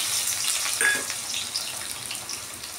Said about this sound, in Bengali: তেলটা গরম হয়ে গেছে বন্ধুরা। দেখো, এবার আমি তেলের মধ্যে আমি পেঁয়াজ কুচনোটা দিয়ে দিলাম।